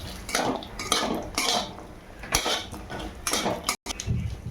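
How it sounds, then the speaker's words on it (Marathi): Dry coconut slices roast in a kadai without oil, heard as repeated loud scraping sweeps of a metal spatula with clattering knocks against the pan and a brief silent gap near the end. "ते थोडे छान असे खरपूस भाजून घ्यायचं आहे खोबरं"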